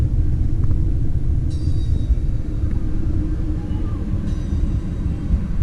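Low, steady rumble of the Auto Train, a long passenger train with 15 or 16 cars, heard from beside the track with a faint intermittent high squeal over the continuous roar.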